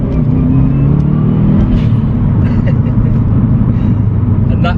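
Turbocharged engine of a Subaru WRX with four-wheel drive, revving in a steady, loud drone with a rising whir, continuous throughout with no other sounds on top.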